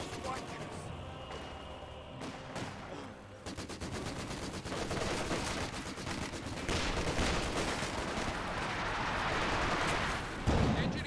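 Sustained battle gunfire in Company of Heroes 2, with rapid machine-gun bursts and scattered shots layered into a dense, continuous din that builds toward the end, while a voice talks over it.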